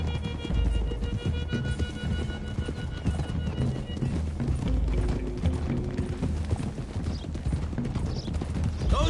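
Hooves clatter in a quick, continuous rhythm as horses gallop in the video game Red Dead Redemption 2, with a horse whinnying over the running and no voices.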